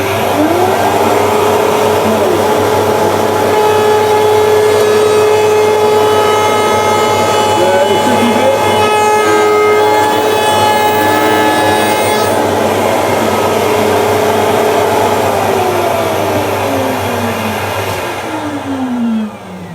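Router trimming the edge of wooden stock for a spice rack, a loud steady high-pitched whine with harmonic tones that runs continuously at close range for most of the stretch, dropping slightly near the end.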